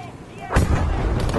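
A loud explosion bursts in the World War II shooter Battlefield 5, a sudden heavy boom with rumbling gunfire rolling on afterward, close and dominant.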